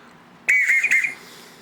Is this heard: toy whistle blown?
yes